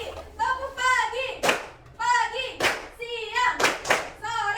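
A class of children claps hands together in a rhythmic clap chant, several sharp group claps punctuating sung and chanted young voices throughout.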